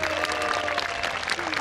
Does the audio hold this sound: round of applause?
yes